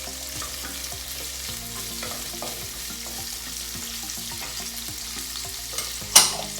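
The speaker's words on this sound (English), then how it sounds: "Let it cook for 2 minutes until onion and garlic and ginger chopped will cook properly." Chopped onion, garlic and ginger fry in a pan for a paneer butter masala, giving a steady, moderate sizzle with light stirring scrapes and one louder clank near the end.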